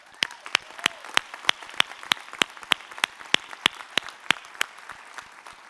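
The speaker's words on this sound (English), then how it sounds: "So I want to give you a hand clap." Slow, evenly spaced hand claps ring out one at a time at a fire rescue graduation ceremony, sharp distinct beats over a quiet hall with faint crowd murmur beneath.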